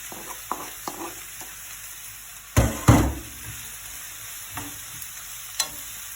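Sliced carrots go into a hot pan and fry with a soft sizzle while a spoon stirs and knocks against the pan in scattered clicks, with two louder scraping bursts near the middle.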